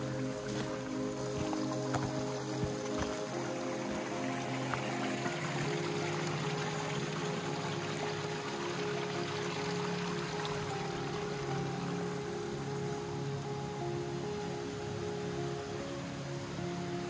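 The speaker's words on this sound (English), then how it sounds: "And then you will reach the creek, which you're gonna be hiking for maybe a quarter of a mile." Creek water at Rubio Canyon flows with a steady, continuous rushing wash, an even broadband murmur that holds at moderate level without a break.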